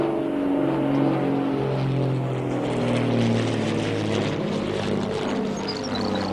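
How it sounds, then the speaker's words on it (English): An airplane comes in to land, its steady broad engine drone rumbling continuously at moderate loudness with no voices over it. "See that airplane?"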